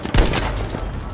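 In the Battlefield V campaign, a burst of gunfire rings out: one sharp, loud shot followed by a rolling, rumbling tail of fire across the short moment.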